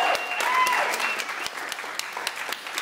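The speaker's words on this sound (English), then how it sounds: "I think he deserves an extra round of applause" A crowd applauds steadily for a few seconds, dense clapping with some sharper individual claps and a faint voice or whistle over it.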